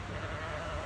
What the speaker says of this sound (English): I just fed the sheep and she came out.